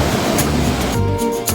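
A river near Athirapally rushes over rocks, producing a loud, continuous roar of flowing water. The sound is close and steady, with brief bright splashy bursts and no talking.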